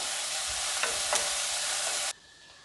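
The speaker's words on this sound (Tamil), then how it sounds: "இதோட பச்சை மிளகாய் பொடியாக கட் பண்ணது, ஒரு நிமிஷம் வதக்கிக்கலாம்" Finely chopped green chillies sizzle in hot oil with onions in a pan as they are stirred for a finger millet adai. The frying hiss is close and steady with a few stirring scrapes, then cuts off abruptly.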